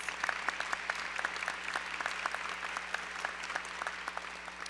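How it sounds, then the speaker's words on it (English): An audience at a community MLK celebration claps for the event sponsors, a steady mid-level wash of many hands with scattered sharper claps throughout, heard from a slight distance in a large hall. "Can we give our sponsors another round of applause?"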